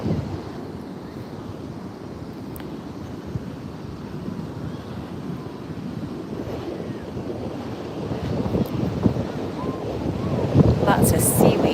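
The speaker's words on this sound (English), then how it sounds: "So we got the waves, and we're going for a walk." Ocean waves wash onto a beach with seaweed along the shore, a steady broadband rush of surf and wind buffeting the microphone, swelling louder near the end.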